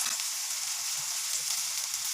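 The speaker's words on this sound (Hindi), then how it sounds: "मीडियम फ्लेम में मैंने फ्राई करूँगी।" Samosas deep-frying in about two cups of hot oil over a medium flame, a steady, close, bright sizzle and crackle running unbroken throughout with no voices.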